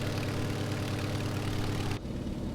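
An Antonov An-2's radial engine drones steadily at full throttle in Microsoft Flight Simulator 2020, a loud continuous rumble that drops slightly in level near the end.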